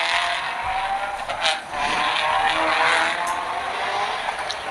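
Race cars at the Macau Grand Prix roar past in a continuous, loud wash of engine noise, with brief swells as individual cars pass close by.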